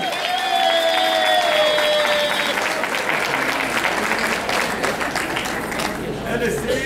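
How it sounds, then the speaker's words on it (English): Guests at a wedding reception applaud steadily and loudly, a dense wash of clapping with some crowd murmur and voices underneath, with a fading tone in the first few seconds. "Let's give her a round of applause, ladies and gentlemen."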